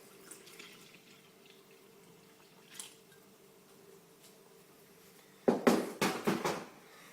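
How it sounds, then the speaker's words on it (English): Buttermilk poured into a well of flour in a mixing bowl for Irish soda bread: a quiet stretch with a faint hum, then a short cluster of loud, wet squelching splashes near the end. "we pour in the 350 mils of buttermilk"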